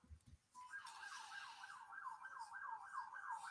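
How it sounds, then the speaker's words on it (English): A wailing emergency siren sweeps up and down continuously in the background, distant and fairly faint, after a brief low thump at the start. "there's a loud siren in the back"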